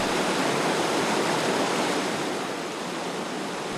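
Nanshih Creek rushes steadily in a forest recreation area, a broad, continuous wash of flowing water that stays loud and even throughout with no voices.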